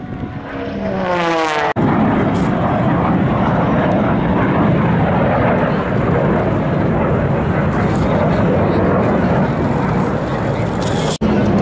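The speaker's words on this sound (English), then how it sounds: "Rumble of all those round engines, all those unique aircraft as they prepare for their demonstrations here today" Round-engine piston aircraft at an airshow, arriving and preparing for demonstrations: a heavy continuous engine rumble, loud and close, following a sweeping pass at the start, with voices audible over it.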